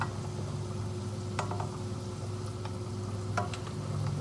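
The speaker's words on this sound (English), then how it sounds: "Now I can get my pasta in the pan." Bucatini pasta sizzles and fries steadily in a hot pan over medium-high heat, with occasional sharp clinks and stirring scrapes over the constant crackle.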